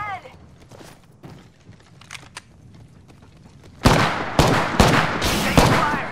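Gunfire in Apex Legends: after a quiet, sparse stretch, a loud burst of rapid shots breaks out close by, followed by several more sharp cracks in quick succession.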